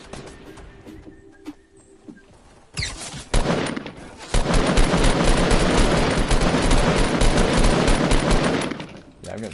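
Fortnite gunfire: after a quieter start with scattered sharp shots, heavy sustained automatic fire erupts and rattles on loudly for several seconds, rapid and close, before tapering off.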